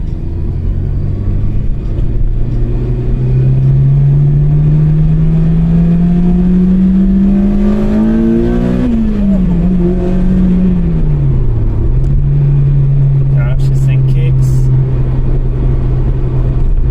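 A Honda Integra Type R DC5 pulls hard along a straight at night, its engine note climbing steadily through the revs, then dipping sharply at a gear change before settling into a steady drone, loud and close from inside the car.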